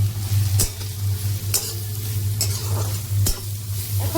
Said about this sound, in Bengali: এগুলোকে আমি একটু ভালো মতন তেলের মধ্যে ফ্রাই করে দেব